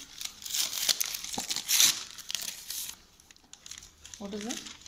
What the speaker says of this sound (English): The tissue paper. There is inside is fork and knife.